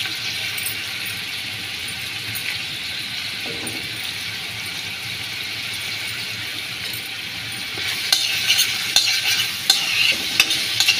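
Onions frying with bay leaf and cinnamon in a pan for a Kuwaiti-style vegetable rice, giving a steady, close sizzle throughout, with a few sharper clinks and scrapes of stirring toward the end.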